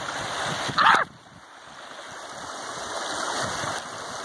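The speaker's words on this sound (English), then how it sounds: "Cross the water, little doggy." Dog crossing a stream outdoors by a lake, with one brief splash near the start, then steady running-water rush for the rest.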